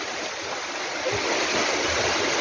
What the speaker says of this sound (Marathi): छोटे छोटे धबधबे, फार सुंदर.